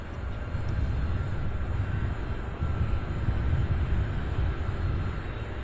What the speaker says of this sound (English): All right, A300 from Albuquerque.